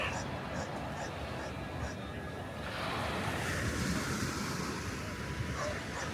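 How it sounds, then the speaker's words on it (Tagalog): Strong ocean surf pounds a surfing beach in La Union, a continuous loud wash of breaking waves mixed with gusty wind buffeting, while people chat nearby. "Doon talaga malakas alon na, po. Ayun, pang surfing na"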